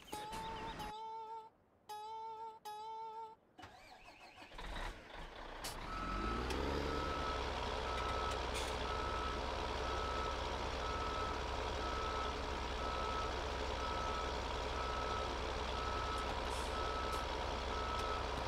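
A John Deere tractor carrying a DB120 implement in Farming Simulator 17 emits a few evenly spaced reversing beeps, then its engine revs up into a steady, loud drone that holds for many seconds, with a clucking chicken briefly audible.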